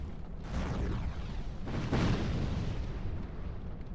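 Witchcraft urns exploding in Dark Souls 2, dealing dark damage: deep, rumbling blasts with a sharp burst near the start and a heavier boom midway, over a continuous low roar.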